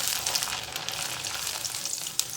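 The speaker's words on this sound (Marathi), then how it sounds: "आता तळून घ्यायचे कुरडई आणि पापड" Kurdai and papad fry in hot oil for a festive satvik thali, giving a steady, close crackling sizzle with a few sharper pops. No one is speaking.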